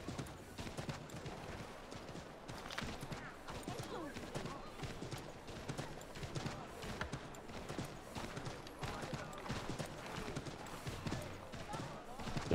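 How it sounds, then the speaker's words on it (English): Horse hooves galloping in the video game Assassin's Creed III, a steady rapid clip-clop rhythm running continuously throughout, with someone talking over it at times. "My horse won't go any faster either."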